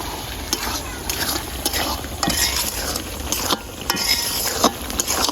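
Beef tripe coated with meat masala and curry powder is stirred and fried in a pan, giving close, rhythmic metal scrapes and clacks over a steady, gentle sizzle.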